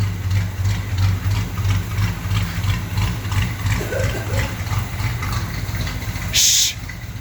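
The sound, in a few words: 1978 GMC truck engine idling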